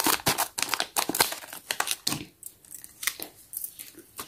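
Plastic packaging from blind bags crinkles and tears in quick rustling bursts, close and busy, trailing into sparser crackles.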